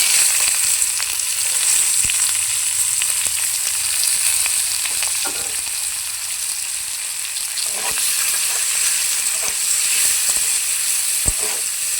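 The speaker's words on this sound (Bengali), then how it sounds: "ফোড়নের সঙ্গে পেঁয়াজটাকে যতক্ষণ না লাল লাল ভাজা হচ্ছে ততক্ষণ আমি ভেজে নেব" Finely chopped onions frying in oil with whole tempering spices, a loud, close, continuous sizzle with occasional scraping stir sounds, steady and alone without speech.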